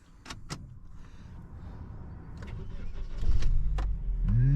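A rental car's engine is started from inside the cabin. Several sharp clicks and switch sounds come first, then the engine cranks and settles into a close, low, steady idle toward the end.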